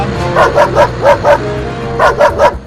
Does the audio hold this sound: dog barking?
yes